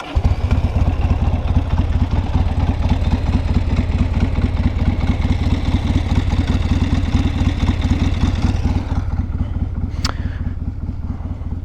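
A pre-1985 Harley-Davidson motorcycle engine idles close by with a steady, loping rhythm of even thumps that continues throughout, with a sharp click near the end and no talking.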